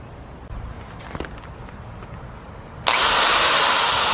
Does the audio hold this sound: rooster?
no